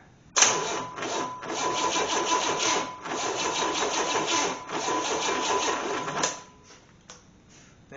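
A car engine that had sat unused for nearly 20 years runs at high revs for about six seconds, loud and steady with a slight pulsing roar, then drops off sharply to a quieter idle.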